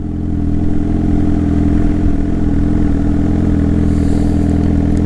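A motorcycle engine thrums loudly and steadily up close as the rider lets out the clutch to pull away on a hill, a low, even rumble with no voices.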